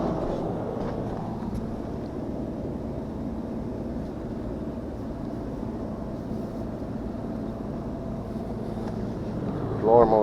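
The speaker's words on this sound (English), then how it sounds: "Condenser fan motor's on." Condenser fan motor running on a package air-conditioning unit that trips its breaker, giving a steady, continuous droning hum with low rumble at constant loudness throughout.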